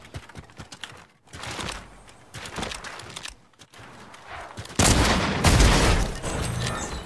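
Rapid gunfire from a video game shooter crackles in bursts, with a louder, denser volley of shots near the end; no talking is heard over it.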